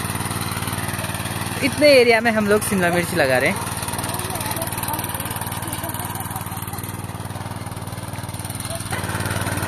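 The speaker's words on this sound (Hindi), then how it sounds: "और ट्रैक्टर" Tractor engine idling steadily on a farm, a constant mid-pitched drone heard throughout, with someone briefly talking over it.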